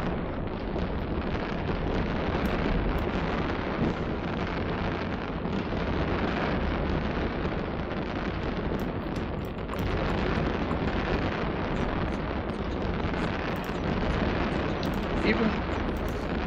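Fireworks bursting in space in the game Eve Online: a dense, continuous roar of overlapping booms and crackles, loud and unbroken throughout.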